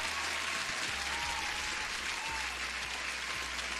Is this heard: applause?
yes